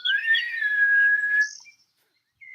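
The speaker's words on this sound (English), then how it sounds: "lets out a low whistle." A single steady whistle in a video game, held for about a second and a half before it cuts off, with a brief faint tone at the end.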